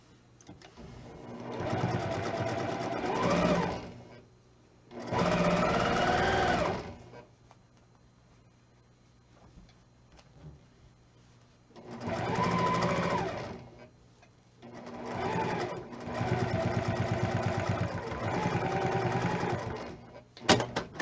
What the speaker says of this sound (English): I'm backstitching at all these seam ends and sewing a 1/4 inch still.